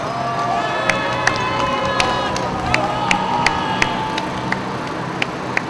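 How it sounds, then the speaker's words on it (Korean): Crowd of disability-rights activists at an outdoor rally near Sejong Center in Seoul, a steady broad roar of shouting and cheering with scattered sharp claps and whistle-like peaks running throughout, fairly loud and continuous. "동지 여러분들의 함성과 박수로 시작하도록 하겠습니다"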